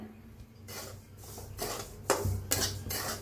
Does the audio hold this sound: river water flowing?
no